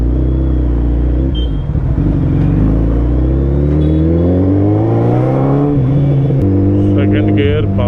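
A Bajaj Pulsar N250 motorcycle accelerates hard in second gear in heavy traffic, its loud, close engine note climbing steadily in pitch, dropping briefly at a shift, then rising again.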